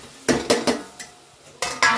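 Chicken pieces dropped into a biryani pot with turmeric and a little water make a run of sharp metallic knocks and scrapes, three quick clanks, a pause, then two more, near and loud.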